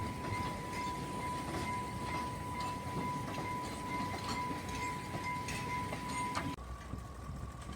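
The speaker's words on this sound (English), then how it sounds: "This is Badulla oil train in Sri Lanka." A diesel train hauling oil tank wagons rolls past close by in Sri Lanka, wheels clattering rhythmically over rail joints under a steady rumble and a thin sustained whine, then abruptly quieter.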